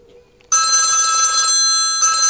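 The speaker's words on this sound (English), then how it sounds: "I knew my phone would ring during this" A mobile phone ringtone bursts in abruptly and rings loud and close in bright, sustained electronic tones, with a brief dip and restart near the end, following a moment of near silence.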